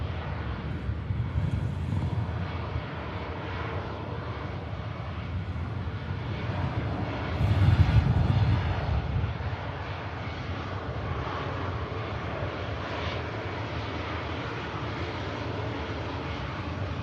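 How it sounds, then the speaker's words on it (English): A jet airliner rolling off the runway onto a rapid exit taxiway at Manchester Airport, a steady distant engine rumble with a brief louder swell midway, wind buffeting the microphone, no speech. "another aircraft coming off on the rapid exit"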